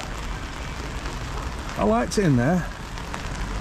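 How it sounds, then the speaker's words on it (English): Steady rain patters and hisses throughout, while a voice speaks briefly in the middle. "it's still bloody raining."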